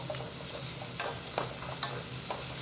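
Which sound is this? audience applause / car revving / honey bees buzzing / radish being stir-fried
radish being stir-fried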